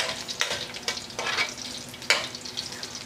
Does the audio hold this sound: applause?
no